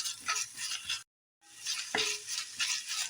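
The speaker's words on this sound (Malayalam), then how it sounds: "ഇനി നന്നായി ഒന്ന് വഴറ്റിയെടുക്കാം." Onions sautéing in a pan for Kerala-style chicken cutlet filling, with a steady sizzle and stirring scrapes, a short silent break, then a sharp utensil knock on the pan before the frying continues.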